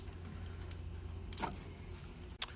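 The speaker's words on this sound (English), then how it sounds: "The box comes with two sets of keys." Keys for a Tool Vault Elite 72-inch tool box jangle in a couple of brief metallic clinks over a quiet low hum.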